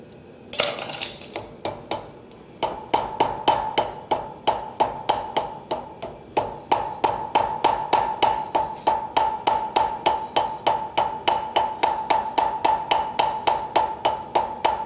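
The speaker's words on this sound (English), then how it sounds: "You probably have maybe three hammer blows in this weld." A blacksmith at a forge hammers a weld: sharp metallic ringing strikes land in a fast, even rhythm, loud and close, continuing steadily without talk.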